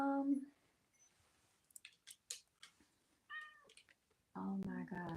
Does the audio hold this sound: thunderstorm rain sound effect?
no